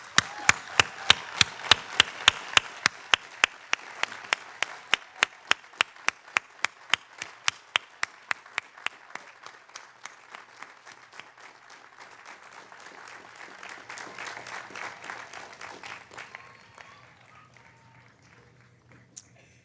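A college commencement crowd applauds with loud, sharp claps at first that blend into a sustained wash of clapping, gradually fading out near the end.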